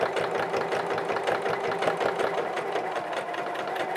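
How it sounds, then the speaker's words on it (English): A sewing machine topstitches a fabric coverall, running steadily at a fast, even, rapid stitching rhythm from start to finish, close up and alone. "So we've got our edge stitch or our top stitching done."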